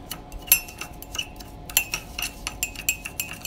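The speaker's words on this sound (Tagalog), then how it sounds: "I-mix mo siya hanggang sa lumapo siya, yung maging brown siya." A metal spoon stirring coffee and sugar in a cup makes quick, bright clinks against the sides, coming in irregular bursts at close range over a quiet background.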